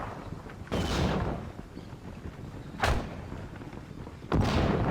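Three heavy artillery shots in the World War II strategy game Steel Division: Normandy 44, spaced a couple of seconds apart, each a deep booming thud over a low rumbling background.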